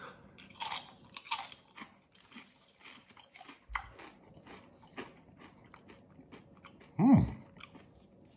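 Someone bites into a tortilla chip topped with hot sauce and chews it. Close crunching bursts repeat through the clip, with a short hum of approval near the end.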